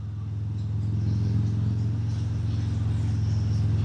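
Harley-Davidson Breakout 117 motorcycle cruising along a winding mountain road, its big V-twin engine holding a steady, loud low rumble with a faint pulsing throb, close and continuous without any talk.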